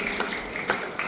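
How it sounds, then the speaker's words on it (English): An audience applauds the judges at a school inter-house speech and debate competition, a brief, steady wash of many hands clapping in a hall with no voices over it. "I request the audience to kindly give them a huge round of applause"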